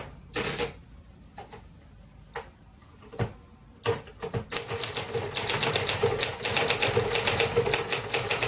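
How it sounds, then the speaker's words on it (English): A 1957 Remington Quiet-Riter typewriter being typed on: a few separate keystrokes at first, then a quickening run of crisp, close key strikes clattering steadily. "Let's do a quick typing test."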